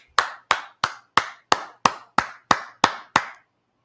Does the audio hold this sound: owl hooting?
no